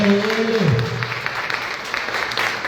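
A congregation claps at a Catholic healing mass, with a burst of applause in a large room while a voice trails off at the start.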